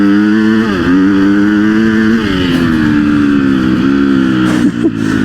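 A motocross dirt bike engine runs loud and close, its pitch rising and dipping as the throttle is eased on and off in smooth surges.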